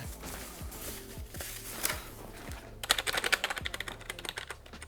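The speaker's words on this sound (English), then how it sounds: "yeah, it is just a membrane keyboard." Soft, dull keystrokes tapping irregularly, then a quick flurry of rapid typing on a CyberPower-branded membrane keyboard, close up.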